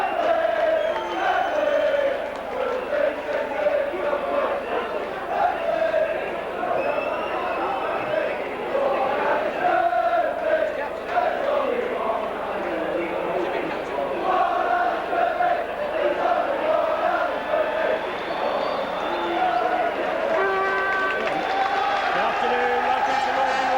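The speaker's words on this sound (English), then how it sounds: "Been round the ground and receiving the deserved applause." A rugby league crowd at a St Helens versus Bradford playoff applauds and cheers steadily as the players go round the ground, a dense continuous roar of clapping and voices throughout with commentary over it.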